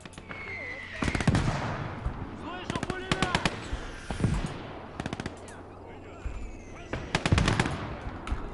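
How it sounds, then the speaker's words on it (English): Mortar fire and machine-gun bursts in the Eastern Front video game Call to Arms: Gates of Hell come as loud clustered volleys of sharp cracks, repeating every second or two over a dense battle din. "So there's a mortar firing at my infantry here."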